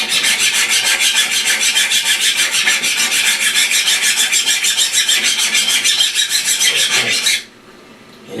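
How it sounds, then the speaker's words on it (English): Small bastard file rasping across a hard plastic ceramic piece, with loud, rapid, rhythmic back-and-forth strokes that continue steadily for several seconds before stopping abruptly. "I'm going to take a little bastard file to it"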